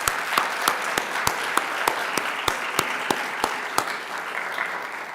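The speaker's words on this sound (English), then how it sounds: "Let's give them a round of applause first." Audience applause at an MLK celebration for the recipient of the 2026 Dr. Rance Thomas Excellence in Community Partnership Award, with one close, steady clapper cutting sharply through a softer, continuous background of clapping.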